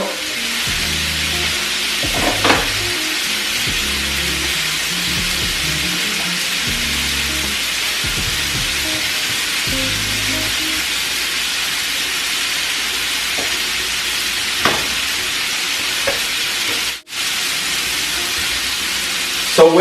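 A roux of flour and oil frying in a pot for gumbo, sizzling steadily and close, with scattered lower clanks and scrapes of continuous stirring over a constant hiss, no talk.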